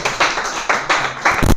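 An audience in a classroom-style spoken English activity claps for a group in a few loud, close bursts of clapping that rise and fall across under two seconds.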